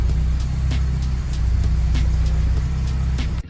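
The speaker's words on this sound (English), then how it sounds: "Start the car up, make sure that the gauges turn on." A 1987 Porsche 944 engine runs at a steady, even idle close by, with a faint rhythmic pulse. It cuts off abruptly at the end.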